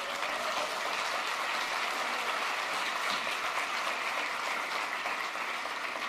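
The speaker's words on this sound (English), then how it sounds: "Please give a good clap to our Filipino friends." Steady, dense applause from a church conference audience, a continuous wash of many hands clapping at moderate distance with no voices rising above it.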